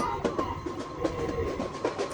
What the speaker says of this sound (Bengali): আমার সামনে একটা কক্সবাজার অভিমুখে একটা লোকাল ট্রেন গেল